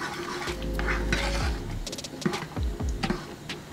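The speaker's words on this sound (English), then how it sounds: "I'm going to add my parsley. And I'm gonna mix it" Shrimp scampi with parsley stirred through in a pan, a utensil scraping and clinking against the pan in repeated strokes over a soft background sizzle, close and fairly loud.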